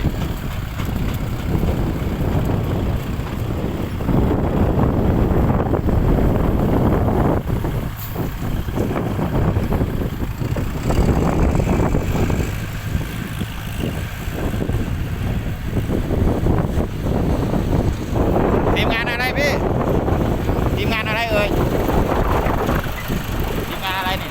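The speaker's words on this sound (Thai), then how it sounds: "รถปลูกอ้อย" A sugarcane planting machine working in a field: a steady, loud engine drone with heavy wind buffeting the microphone, continuing for the whole stretch.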